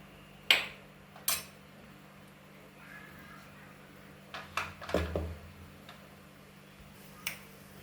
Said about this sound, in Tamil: பாருங்க, சோம்பு பொரியுது